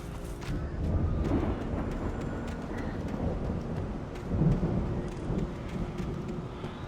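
Stormy night rain and rumbling thunder in the video game Alan Wake, a steady dense wash of rainfall with low rolling rumbles that swell briefly in places, no voices over it.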